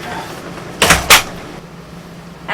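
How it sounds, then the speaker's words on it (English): An RV door is slammed shut in two quick, close, loud thuds with a rattle, then the room falls quiet. "Shut the door!"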